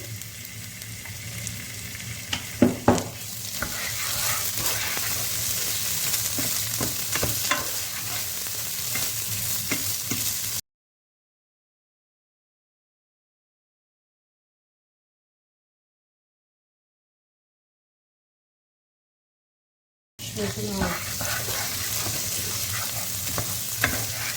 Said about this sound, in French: Il faut vraiment attendre jusqu'à ce que le beurre fonde et faire cuire le riz en même temps